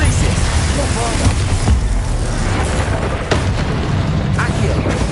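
Confringo and Bombarda spells go off in Hogwarts Legacy as a loud string of booming, crackling bursts and impacts over several seconds, layered with game effects and music.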